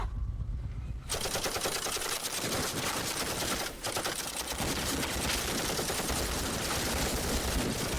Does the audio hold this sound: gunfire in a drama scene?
yes